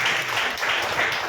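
An audience claps for Jesus in a sustained burst of applause, a dense, even wash of many hands clapping together for just over a second.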